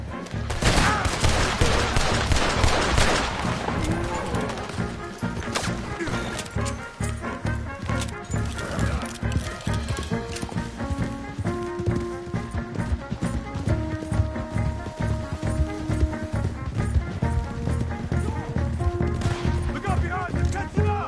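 Volleys of gunfire ring out in a Red Dead Redemption 2 shootout, loud and rapid over a constant clatter of galloping horses, with shouting voices mixed in throughout.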